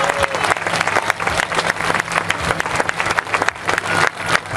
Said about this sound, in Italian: L'applauso più forte.